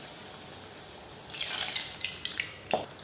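Ragi puri dough slipped into hot oil, setting off a crackling, bubbling sizzle that starts softly and swells into sharp hissing bursts over a few seconds, close and fairly loud, with no talking.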